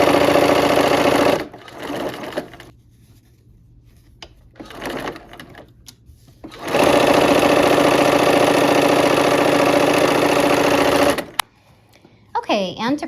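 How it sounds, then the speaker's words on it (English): Sewing machine stitching the final seam of quilt blocks, running loudly in two sustained bursts with a whirring motor, separated by quieter handling noises and pauses. "We're gonna sew this last seam."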